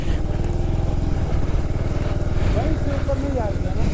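A motorcycle engine churns along in first gear through heavy snow, a loud, rough, pulsing mid-pitched drone that holds steady, with someone talking over it.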